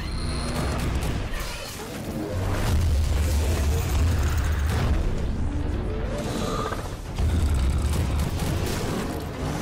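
Rapid gunfire strikes a fast-moving zombie scientist in a skibidi toilet zombie game, the shots blending into a loud, churning mass of booms, mechanical rumble and impacts that swell and dip over the clip.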